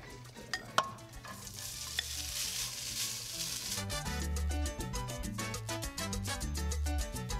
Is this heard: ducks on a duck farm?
no